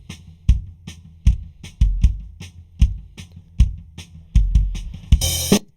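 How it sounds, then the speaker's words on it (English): A kick drum miked with a Beta 91A inside the shell and a foam mute plays about a dozen solo hits in a steady rhythm. The thuds are close and punchy, with a sharp attack and a short low boom, and a cymbal-like wash enters at the end. "I'm just going to start with a kick drum here"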